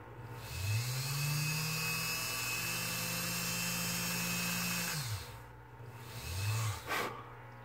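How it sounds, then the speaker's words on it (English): An electric drill spins up with a rising whine, holds a steady high buzz while boring a pilot hole in a model SD40 locomotive cab casting, winds down, then gives a brief second burst, close and loud. "I'm going to put a pilot hole."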